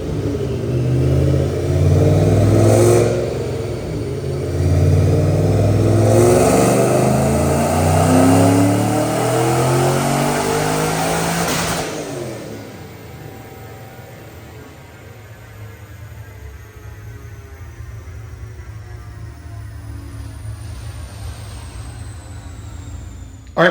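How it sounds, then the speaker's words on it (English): A supercharged 2005 Mustang GT with a 3-valve engine, manual transmission and Paxton blower roars loudly through a full dyno pull, rising in pitch over about twelve seconds before the revs drop and the engine winds down with a lingering whine. "Check out this dyno pull."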